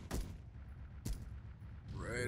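Two sharp gunshots crack out in ARMA 2 gameplay, spaced about a second apart and loud against a low rumbling backdrop, with a voice starting up near the end.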